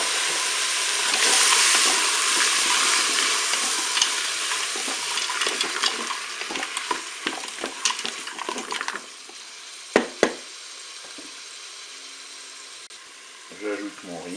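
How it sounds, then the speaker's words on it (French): Mussels and peppers frying in a Cookeo multicooker pot, a steady sizzling hiss with stirring scrapes and clacks of a utensil against the pot, then settling to a quieter simmer with a couple of sharp knocks near the end. "Et ajouter mes poivrons. Je vais ajouter des moules."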